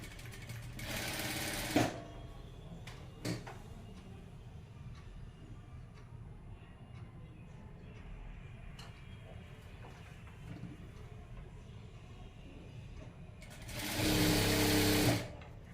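A sewing machine stitches along a folded fabric strip in two loud, fast whirring bursts, one near the start and one at the end, with a quiet pause between them.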